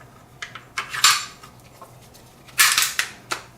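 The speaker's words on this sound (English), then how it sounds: "Slide it back on the frame." Sharp metallic clicks and scrapes of a Beretta M9A3 9mm pistol slide being slid back onto its frame, several quick close-up clacks with two louder snaps, no voices.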